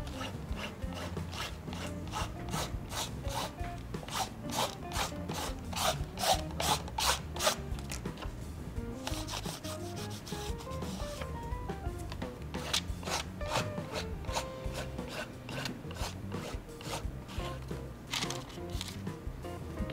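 Sandpaper rubbed over a dampened painted surface while crafting a Paris-themed cachepot, repeated rhythmic rasping strokes that run close and fairly loud throughout, each stroke a quick scratchy burst.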